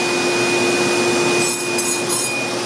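A vitrified ceramic grinding wheel spinning at about 2,000 RPM is dressed, giving a loud, continuous abrasive hiss with a steady whine and rising scraping bursts as the dresser touches the wheel, with no voices.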